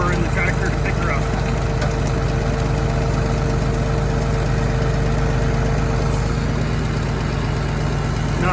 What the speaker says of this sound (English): let's see if I got enough power in the tractor to pick her up